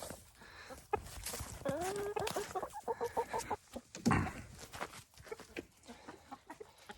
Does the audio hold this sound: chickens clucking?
yes